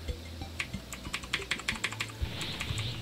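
Rapid clicking keystrokes on a computer keyboard during a Terraria session, a quick irregular run of taps close and fairly quiet, with no one speaking.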